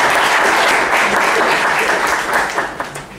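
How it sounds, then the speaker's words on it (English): A round of applause from a Rotary Everest trek gathering, steady dense clapping from a sizable audience filling the room at even loudness throughout, with no talk over it. "if we could just have a round of applause."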